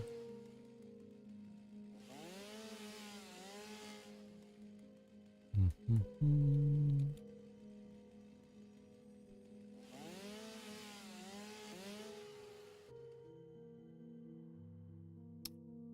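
A chainsaw in the game Satisfactory revs in two long whining bursts several seconds apart while cutting, with a few sharp thumps and tool clunks between them over a low humming background.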